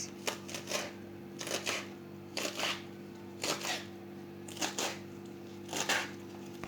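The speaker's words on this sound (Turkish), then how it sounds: "şimdi yeşilliklerimizi ince ince güzel güzel doğruyoruz" A knife finely chops greens on a cutting board in quick clusters of sharp taps, repeating about every second over a steady low hum.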